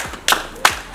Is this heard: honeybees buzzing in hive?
no